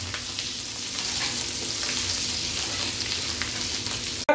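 Grated ginger sizzles in a frying pan for dudhi bhaji, a steady close hiss of frying throughout with no talk, ending in a short clatter.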